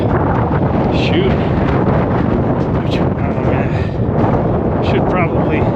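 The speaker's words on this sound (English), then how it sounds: "The wind is definitely blowing up here." Strong wind roars across a snowy mountainside at about 10,000 feet during a blizzard, a loud, continuous buffeting rush battering the microphone with no letup.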